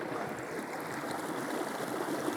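A waterfall pours down among rocks in a forest river, giving a steady, dense rushing of water that stays constant throughout with no voices.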